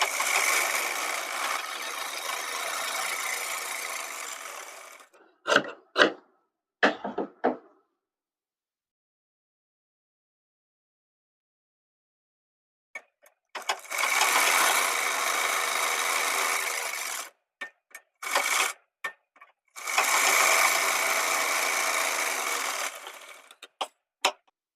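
A sewing machine stitches the lining of jeans pants, running in long steady mechanical bursts separated by silent pauses and a few short, choppy runs of stitches, close and clear.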